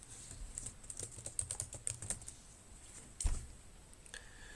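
Soft, quick keystrokes patter on a computer keyboard in a short burst, then a single louder tap after a pause, in a quiet room.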